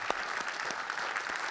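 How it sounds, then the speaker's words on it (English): Audience applause for a lead technical artist at an Unreal Fest Orlando talk, steady, dense clapping from a crowd that fills the whole moment at an even level. "I would love everyone to give him a clap"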